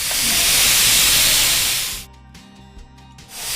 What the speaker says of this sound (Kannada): ಇನ್ನಿದು 2 ವಿಷಲ್ ಆಗೋ ತನಕ ನಾವು ಹಾಗೆ ಬೇಯಕ್ಕೆ ಬಿಡಬೇಕು